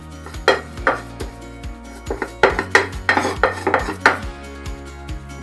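A wooden spoon rolls and presses ugali against a plate as the plate is turned, giving repeated soft scraping knocks and clatters in irregular bursts, close and moderately loud, with no talking.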